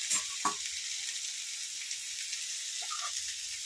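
Ginger, green chilli, onion and cabbage sizzle and hiss steadily in a hot pan for a cabbage thoran, with a couple of brief stirring scrapes near the start and again toward the end.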